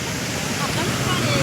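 Rainwater rushes along in a swollen stream after a sudden downpour, a continuous loud broadband roar of flowing water with no clear talk.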